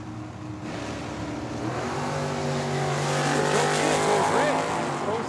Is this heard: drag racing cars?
yes